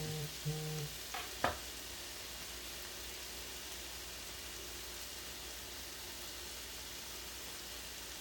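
Potatoes frying in a pan, a steady, even sizzle that carries on throughout, with a few brief clatters and a short knock near the start.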